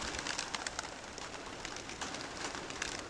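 Soft pigeon calls and bird sounds scattered over steady outdoor background noise, fairly faint and continuous, with no one speaking.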